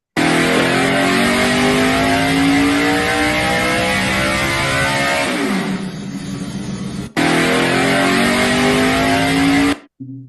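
A Holy V8 pushrod race engine screams up to 10,500 RPM, loud and close, its pitch climbing steadily before a brief drop and sharp cut, then a second burst that ends abruptly.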